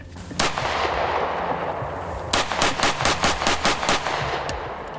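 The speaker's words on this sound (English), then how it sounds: "I just got done shooting a thousand rounds through this strike one" A Strike One ERGAL pistol firing Federal HST rounds from a factory magazine, outdoors: a single loud shot, a pause, then a rapid string of about eight sharp, evenly spaced shots.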